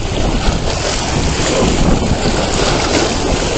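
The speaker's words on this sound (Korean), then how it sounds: "바람이 생각보다 많이 불어요" Strong wind buffets the microphone by the sea during squid fishing, a continuous loud roar with waves and swell beneath it, no voices.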